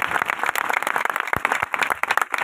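An audience claps during a sermon, a dense burst of many hands filling the short passage at close range with no speech over it.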